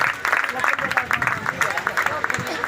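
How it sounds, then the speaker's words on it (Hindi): Listeners at a Bhagavat Katha religious discourse gathering clap together, a brisk patter of many hands mixed with crowd murmur and voices. "जोरदार तालियां।"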